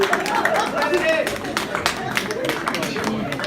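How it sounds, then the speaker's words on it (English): Audience applause at a wedding anniversary celebration speech, a steady patter of clapping from a crowd with murmuring voices mixed in. "A round of applause for Mike and Bethany, please, guys."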